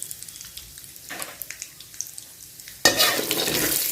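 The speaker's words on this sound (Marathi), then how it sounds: "शेंगदाणा भाजलेलं चटचट आवाज येऊपर्यंत शेंगदाणे भाजायचं." Peanuts roasting in a pan for a yellow bhadang chivda, with a steady soft sizzle and scattered light crackles as they are stirred, then a sudden louder burst of frying near the end.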